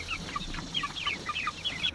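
Chickens cluck inside a shaded farm coop, a string of short, sharp calls overlapping at close range against a low background hum.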